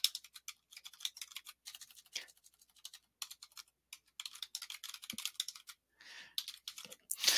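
Rapid clicking of computer keyboard keys while editing text in a terminal editor, quick uneven bursts of keystrokes with short pauses, close and fairly quiet, no talking.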